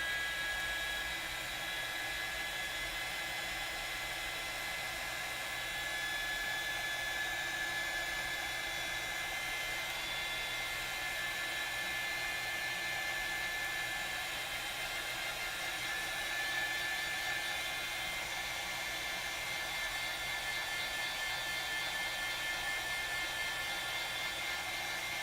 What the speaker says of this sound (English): We're gonna use the heat tool.